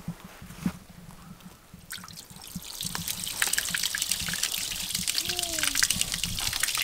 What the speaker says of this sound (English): All right, Bug, turn on the water now.